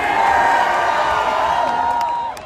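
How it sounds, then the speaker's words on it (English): Large crowd at a Trump rally in Washington, D.C., roaring and cheering in a steady, dense wash of voices with sustained shouts, easing slightly toward the end. "It was the largest crowd."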